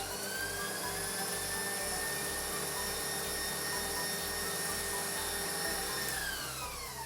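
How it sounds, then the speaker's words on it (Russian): An electric mixer whips egg whites for a raspberry soufflé at maximum speed, a steady high-pitched whine with a slight rhythmic flutter that runs unbroken throughout, close by and with no voices. "Мы выключаем миксер. даем белку чуть-чуть присесть. Буквально там 10 секунд поболтали. И обратно включаем на максимальную скорость."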